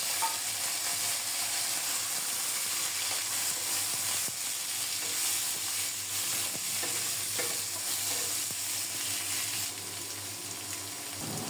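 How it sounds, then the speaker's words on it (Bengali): Pumpkin fries with cumin seeds in hot oil, giving an even, continuous sizzle close up with light stirring scrapes, steady for about ten seconds before easing slightly at the end. "জিরাটা লালচে করে ভাজা হলে এরপর মিষ্টি কুমড়ো দিয়ে দেব।"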